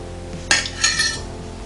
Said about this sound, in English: Alright, so I'm going to just plate this slice here.